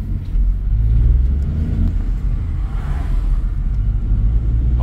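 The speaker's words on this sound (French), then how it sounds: "Donc là, maintenant, je vais la sortir et puis on va faire un petit essai sur la route," A car with a 1.2 PureTech petrol engine rumbles steadily up close, a continuous low engine drone with slight revving as it is driven out for a road test.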